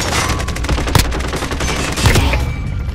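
Dense, sustained gunfire from the shooter game Modern Warfare, with rapid overlapping shots and heavier bursts near one second and two seconds, loud and continuous throughout.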